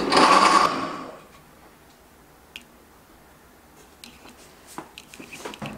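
A blender whirs loudly for under a second, mixing egg whites, strawberries, banana and maple-flavored syrup, then stops and leaves faint kitchen clatter.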